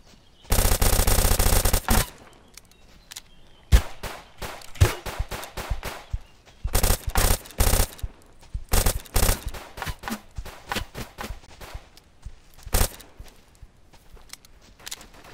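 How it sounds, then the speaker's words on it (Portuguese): Bursts of automatic gunfire in the survival shooter Deadside, loud and close, with long sustained sprays broken up by shorter volleys and single shots over about fifteen seconds. "Tiroteio tá rolando!"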